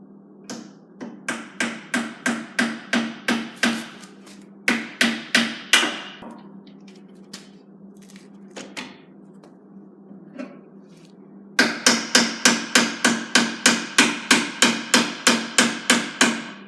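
Nails are hammered into the side of a wooden workbench with a hammer. The blows are loud, close and evenly spaced, coming in quick rhythmic runs with a quieter gap in the middle and no voices.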